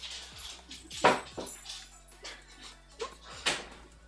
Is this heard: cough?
no